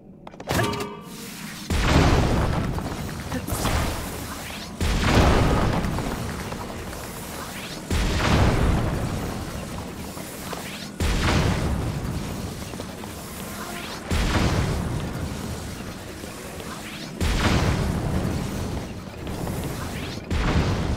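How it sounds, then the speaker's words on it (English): Cannon fire in the game Zelda: Tears of the Kingdom: a steady series of heavy booms, roughly every three seconds, each a sharp hit followed by a rumbling tail, loud and close with no talking. "Might just get another cannon out."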